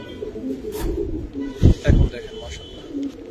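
Giribaz pigeons, including a silver bird, coo softly at close range in a market coop while someone talks over them, with a couple of louder thumps partway through.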